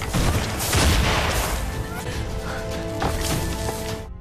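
Bursts of gunfire crackle amid a chaotic, noisy scene with booms and a voice shouting underneath.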